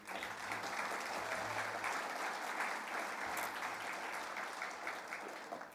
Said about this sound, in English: So just one more big round of applause for them, team.